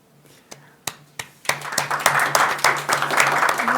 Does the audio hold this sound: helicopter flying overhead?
no